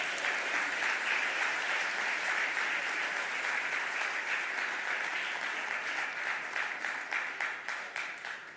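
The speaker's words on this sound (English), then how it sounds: "Give that a round of applause." Sustained audience applause at a mayoral budget address, a dense wash of clapping from a large crowd that holds steady for several seconds before beginning to thin and fade toward the end.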